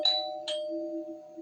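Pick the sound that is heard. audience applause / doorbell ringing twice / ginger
doorbell ringing twice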